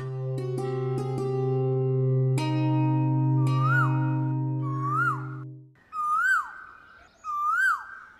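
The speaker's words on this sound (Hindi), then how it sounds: "महल में कोयल भी है?" A koel calls inside a palace, giving four repeated rising-and-falling whistled notes, clear and fairly loud. The first calls sound over a sustained musical drone, and the later ones stand alone.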